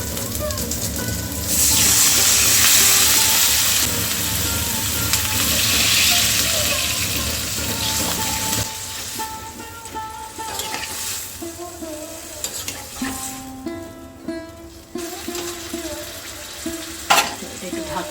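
Water poured into a hot pan for a home-cooked festive dish, bursting into a loud rush of hissing sizzle that settles into softer bubbling, with clinks of a utensil near the end.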